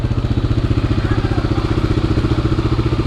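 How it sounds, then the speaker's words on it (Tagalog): A CFMoto Dual 230 motorcycle engine idles steadily nearby, its stock exhaust giving a regular low, thumping putter throughout. "ayan yung sound niya for stock exhaust"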